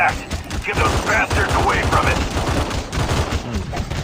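Dense, continuous bursts of automatic gunfire in Call of Duty Mobile's Undead Siege zombie mode, loud and sustained with layered game effects throughout.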